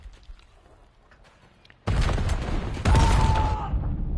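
A grenade blast in the Black Ops 7 shooter, a sudden loud, broad explosion that cuts in midway and rumbles on for a couple of seconds with a ringing tone.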